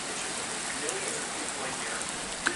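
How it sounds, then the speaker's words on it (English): Rain falls in a steady outdoor patter and close hiss, with a sharper drop or two standing out near the end; no one speaks. "Well, when it rains, it rains."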